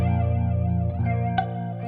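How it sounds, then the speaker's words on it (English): An electric guitar runs through the chorus modulation effect of a Boss Katana amp, playing sustained wobbling chords with a slightly distorted edge and a brief pick attack partway through, close and alone without talk. "I'm pretty sure that's chorus"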